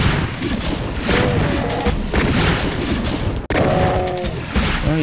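Repeated gunfire against an enemy in Doom 2, loud booming shots in quick succession that fill the whole stretch, with a brief break partway through.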